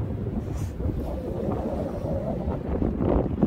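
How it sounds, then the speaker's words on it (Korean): Strong wind buffets a seaside sand beach near a harbour breakwater, a steady loud low roar with gusts swelling toward the end, and no talking. "자 바람이 좀 예, 오전보다 좀 예, 세진 것 같아요."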